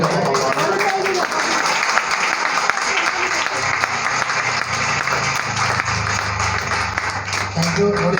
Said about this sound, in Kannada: ಈಗಲಾದ್ರೂ ಚಪ್ಪಾಳೆ ಹೊಡಿದಪ್ಪ